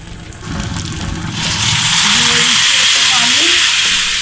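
Spices sizzle steadily in a hot pan as they are fried, a dense hiss that swells louder after the first second and holds, with soft stirring scrapes and faint talk underneath.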